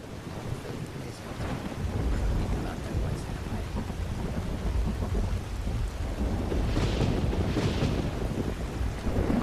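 Rain falls steadily in Skyrim with rolling thunder and gusts of wind, a constant dense wash broken by deeper rumbles, with no talk.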